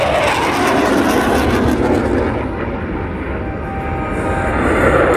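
RAAF F/A-18 Hornet jet in a flying display, a loud roaring rush of engine noise that eases slightly midway and then swells again, broad and continuous.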